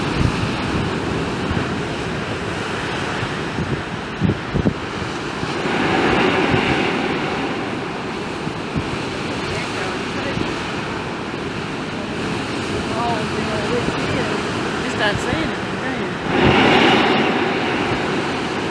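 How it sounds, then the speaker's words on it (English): Deep, roaring rush of surf forcing air up through an underground sea cave on an arid coastline, whooshing in bursts, a steady rumble swelling louder twice, wind blowing throughout. "you can hear the force of the waves blowing the air back up through the underground cavern"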